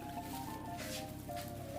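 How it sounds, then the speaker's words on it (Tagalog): Coconut cream poured into a cassava cake mixture, a soft wet squishing and trickling heard close and quiet for a moment. "Maglalagay ako ng 1 1/2 cup na kakanggata."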